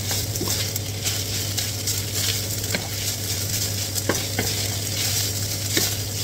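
Chicken pastil being stirred with a spoon in a pan as sugar is mixed in, a steady soft sizzle running under repeated scraping strokes, with no talking.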